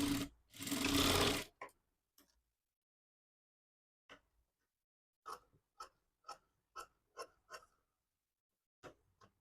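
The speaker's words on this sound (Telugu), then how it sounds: "ఈ విధంగా స్టిచ్ చేసుకున్న తర్వాత ఈ సైడ్ని కూడా స్టిచ్ చేసుకోవాలి" A sewing machine stitches a designer bow in short, quiet bursts of rhythmic ticking, with a louder whirring run at the start and spaced clicking stitches afterward.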